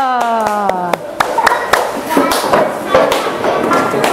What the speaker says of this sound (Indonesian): Tepuk tangannya. Ayo.